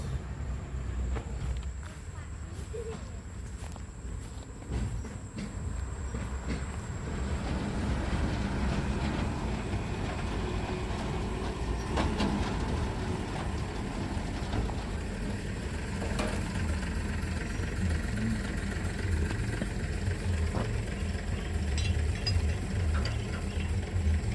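A sugar cane rail locomotive shunts along a narrow-gauge line and couples to loaded wagons bound for the Semboro sugar mill, a continuous low rumble with clanking mechanical knocks and rattles, steady at moderate distance throughout.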